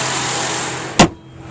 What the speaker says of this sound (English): V6 engine runs perfect